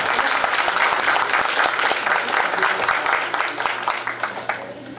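An audience at a Marian festival in Montreal applauds a bishop, dense sustained clapping from many hands that fades slightly toward the end.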